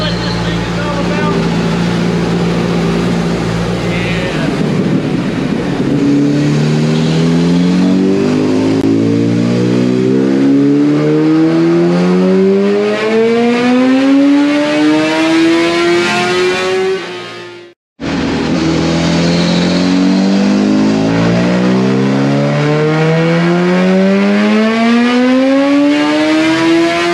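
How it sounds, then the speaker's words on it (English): A 2022 Suzuki Hayabusa motorcycle with a built engine on a dyno, roaring loud and close as it revs up through the gears in long rising pulls, cutting off briefly before a second climbing run. "Alright boys, here we go on the dyno."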